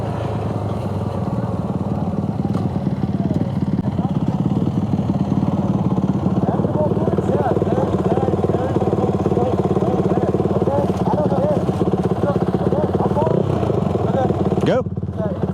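A new Honda CT125 motorcycle being ridden on a muddy Sunday trail, its engine holding a loud, steady drone with a light mechanical clatter for the whole stretch and no break in the sound.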